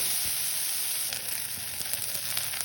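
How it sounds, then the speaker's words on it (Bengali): Dried red chillies and black cumin sizzle in hot oil for tempering, a steady close hiss that holds evenly throughout with no voices. "এখানে আমি ফোড়নের জন্য শুকনো লঙ্কা দিয়ে দিব আর কালো জিরে দিয়ে দিলাম"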